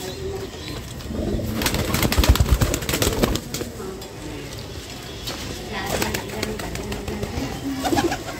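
Pigeons just let out of their loft coo and stir nearby, soft repeated calls over rustling and occasional wing sounds, with a continuous busy background.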